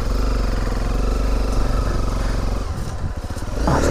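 Loud, close Honda CRF dirt bike engine running and revving, a continuous raspy throb with rising and falling pitch near the end and no speech.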